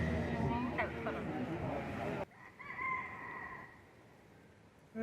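A rooster crows near a marina on the Saintes islands of Guadeloupe, two drawn-out calls heard faintly after people talk nearby.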